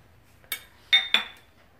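A spoon mixing homemade face cream into a paste in a bowl: three sharp, bright clinks spaced apart, close and clear over near silence.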